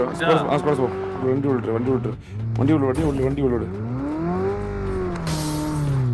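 A vehicle engine revs in the mobile battle game BGMI, rising and falling in pitch through several long loud whines, with players talking excitedly over it.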